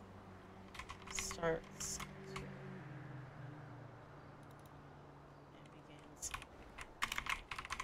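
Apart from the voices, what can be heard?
typing on computer keyboard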